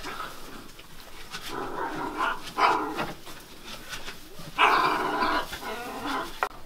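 Barks and whimpers from a massive six-year-old shepherd dog at a sheep fold come in several mid-level bursts, the strongest near the end, over a quiet outdoor background.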